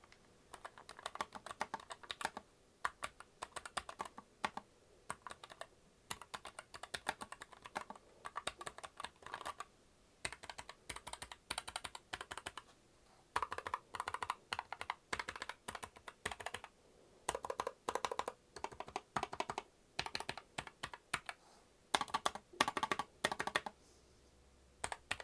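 Rapid typing on a Keychron K5 Max low-profile wireless mechanical keyboard, close and fairly quiet, with crisp key clacks in fast bursts separated by short pauses, and no talking.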